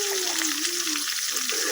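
A continuous bright sizzle of onion, ginger and garlic pastes frying in oil, heard up close for a chicken roast, with a light tonal scrape of stirring underneath.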